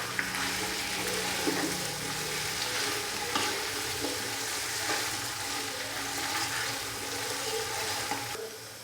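Steady sizzling and frying of mutton in a hot pan with ginger-garlic paste, with occasional stirring scrapes, loud and continuous throughout with no talking.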